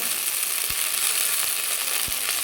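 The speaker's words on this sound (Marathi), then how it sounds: "तर हे मिरची पण आपण तेलामध्ये परतून घेतल्यानंतर आता लगेच हे भाजी टाकणार आहे" Fresh tandulkunjir greens drop into hot oil with fried chillies, giving a steady, loud hiss and crackle of frying, with a few soft thuds as the leaves land.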